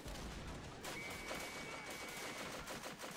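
Faint, distant crackle of massed rifle and machine-gun fire in a WW1 video game, a steady rolling fusillade heard alone, with no talk over it.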